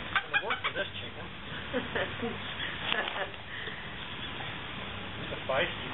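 A feisty chicken being held and struggling, giving several short clucks near the start and scattered squawks later, mixed with handling noise and people talking.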